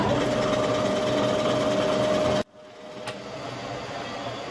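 A job shop machine tool spinning at about 1000 RPM while machining flight simulator rudder control parts, a loud steady mechanical whir and hum that cuts off abruptly midway, leaving a quieter background drone.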